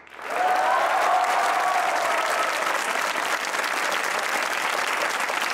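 A studio audience at a comedy talk show breaks into loud, sustained applause that swells within the first half second and holds steady to the end.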